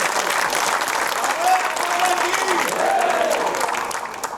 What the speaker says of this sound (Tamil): கைதட்டு கொடுங்க